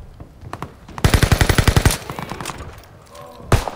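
Gunfire in a multiplayer shooter game: a fast burst of about ten sharp automatic shots, then a short lull with faint background noise and one more loud single shot near the end.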